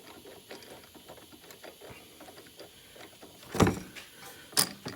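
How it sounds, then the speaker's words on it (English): A ratchet loosens the center bolt on a Dodge 2.4L engine, fast soft clicking throughout, then two sharp louder clanks near the end. "Loosen the bolt in the center up now"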